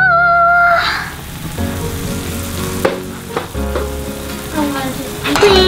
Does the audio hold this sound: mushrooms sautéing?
yes